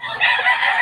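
A rooster's loud crow rings out up close among many chickens, one sustained harsh call lasting under a second.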